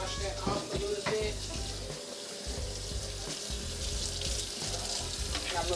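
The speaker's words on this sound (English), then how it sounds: "Got a little hot water action and a little Dawn dishwasher liquid action going." Hot tap water runs into a kitchen sink while a small oil sprayer is washed with dish soap, a steady splashing hiss with clinks and handling noises close by.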